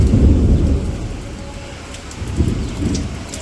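Heavy rain pours over a village, with thunder rolling low and loud at the start and again after a short lull, above a constant dense rain hiss.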